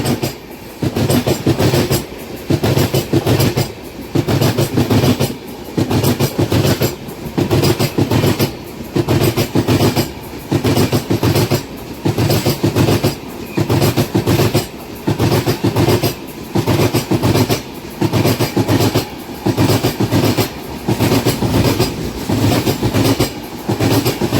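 A DEMU train rolls steadily on the Nandyala to Kurnool line, heard from inside the coach as a continuous loud rumble with rhythmic clickety-clack beats from the wheels on rail joints.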